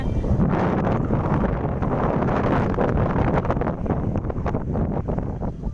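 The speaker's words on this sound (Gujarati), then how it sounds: "બહુ જ પવન આવે છે." Strong stormy wind blasts across the microphone outdoors, a loud continuous roaring rumble with gusting flutter throughout.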